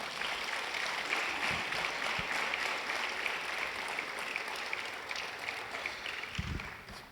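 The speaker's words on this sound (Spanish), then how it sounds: "Démosle un aplauso a Dios por este tema." A congregation applauds during a Spanish-language Sunday church service. The clapping is a broad, steady wash of many hands that holds for several seconds at a moderate level, with a few low thumps and then a gentle fade.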